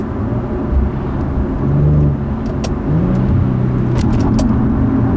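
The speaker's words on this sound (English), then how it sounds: "we'll try manual mode here, see how this 7-speed automatic is with its shifts" A 2010 Infiniti G37S coupe with a 7-speed automatic pulls hard under acceleration in manual mode, its engine drone steady and loud from inside the cabin, with pitch swells and dips hinting at gear changes, no talking.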